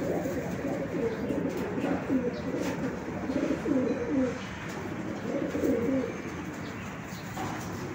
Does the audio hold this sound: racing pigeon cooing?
yes